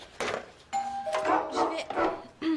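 A doorbell chimes a two-tone ding-dong while a dog barks loudly and repeatedly nearby, with a brief spoken voice in between.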